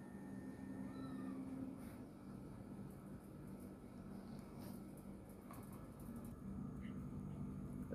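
A cat meows faintly a few times over a steady low background rumble, the calls thin and distant rather than close.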